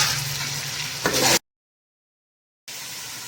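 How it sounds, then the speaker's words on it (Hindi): Bong beef shank meat frying in masala in a pot: loud, close, hissing sizzle that swells briefly, then cuts to total silence before the sizzling resumes at a steady level. "अब मैंने ये बोंग का गोश्त है, ये बोंग इसमें डाल के अच्छे से भून लेनी है"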